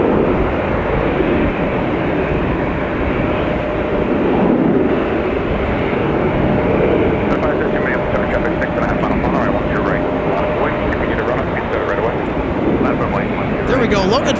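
Airplane at Minneapolis–St. Paul Airport during a winter storm, a steady broadband roar held through the whole stretch, with a faint tonal whine running beneath it.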